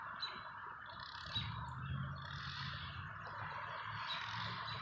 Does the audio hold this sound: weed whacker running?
yes